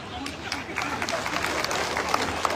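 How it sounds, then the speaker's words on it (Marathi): A crowd at a political rally and protest gathering claps steadily, dense scattered hand claps and crowd noise spreading across the space, with voices mixed in underneath. "जोरदार टाळ्या."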